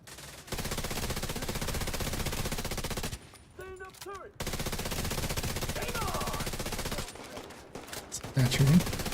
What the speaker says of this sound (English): That shooting.